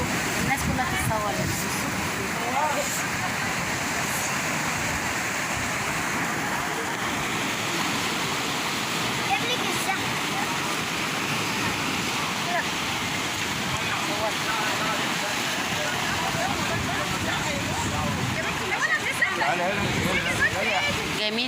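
Sea waves wash steadily against the rocky shore of the beach at Marsa Matruh, a continuous loud rushing surf that holds throughout without a break.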